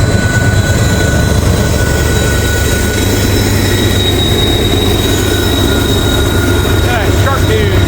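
Norfolk Southern freight train NS 143 rumbles past loud and close, working hard up a steep grade, with steady wheel roar, wagon clatter and a brief squeal of wheels near the end.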